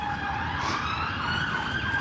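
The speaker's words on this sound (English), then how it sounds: "Police are coming." Police car siren wailing steadily outdoors, a long sweeping tone rising and falling at moderate distance against constant traffic-like background noise, with no talk.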